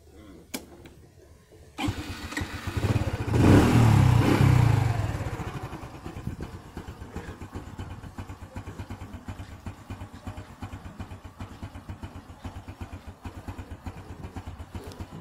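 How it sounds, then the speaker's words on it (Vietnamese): Honda Wave Alpha 2017 motorcycle engine starting and then idling, a faint click, a louder churning catch near the start, then a steady putter that settles into a quieter ticking idle close by. "Nổ máy lên thử luôn."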